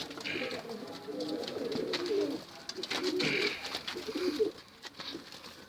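Iraqi blue pigeons on a hot day, giving soft, low cooing calls close by in short repeated bursts, with a little background noise and some faint voices.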